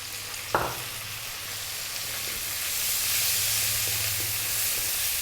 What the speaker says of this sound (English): Next up, we're going to drop that 1 tomato in,